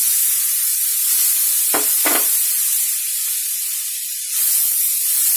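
Green peas for a dry matar dish sizzle in a hot pan under a steady hiss, with a couple of brief scraping stirs cutting through the frying.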